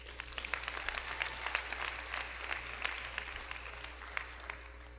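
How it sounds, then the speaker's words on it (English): Audience applause at a graduation hooding ceremony: a crowd claps steadily and densely for the full stretch, close and sustained without fading. "you owe yourself a round of applause."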